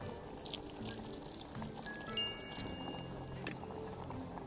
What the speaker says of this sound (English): In earthen bowl, combine half water and half honey.